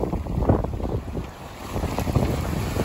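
A Wilderness 30 sailboat under way off the windy northern corner of Oahu, with a steady roar of wind and water rushing past the hull, broadband and continuous, with gusty swells in loudness.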